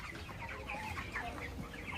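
Broiler chickens on a small farm in Faridpur, around 36 days old, cluck continuously as a dense flock, with overlapping calls forming a steady close chorus and no talk.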